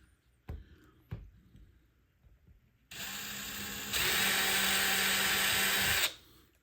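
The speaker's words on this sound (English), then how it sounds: "I'm just going to run that drill through that hole again." After two sharp knocks, an electric drill whirs steadily, then rises in pitch and intensity as it bores back through a hole in wood, leaving sawdust, before stopping abruptly.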